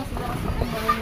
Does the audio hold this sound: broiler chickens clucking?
yes